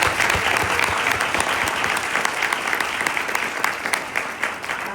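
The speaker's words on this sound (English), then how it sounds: "Round of applause." Big round of applause from a crowd at a Martin Luther King Jr. Day speech event, a loud, sustained roar of many hands clapping that holds steady for several seconds before easing slightly at the end.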